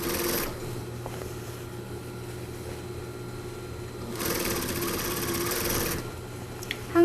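Sewing machine running steadily as it stitches a shirt hem during a length alteration, a continuous close mechanical whirr that rises in intensity partway through, with no speech.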